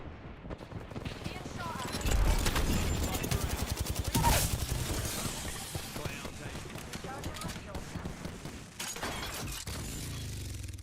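Rapid weapon fire from a cluster gun in a space video game, a dense clattering barrage with sharp bursts and booms spread across the clip, mixed with game noise.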